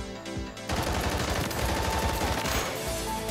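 Rapid automatic gunfire from a secondary weapon in Modern Warfare 3, a dense unbroken burst of shots starting abruptly after a brief pause and continuing at a steady fast rate.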